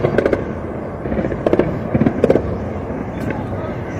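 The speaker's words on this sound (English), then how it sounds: "here's the gunfights heard in Kyiv's city outskirts" Gunfire on the outskirts of Kyiv, heard as several quick bursts of sharp cracking pops at a distance, separated by short pauses over a steady background murmur.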